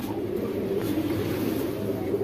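Sirazi pigeons cooing in a cage at a pigeon sale, a steady low murmur of overlapping coos that continues throughout at moderate loudness with faint background noise.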